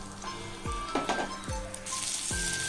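Chopped onions dropped into hot oil with cinnamon and bay leaf set off a steady sizzle and crackle, with a few low thuds landing at intervals.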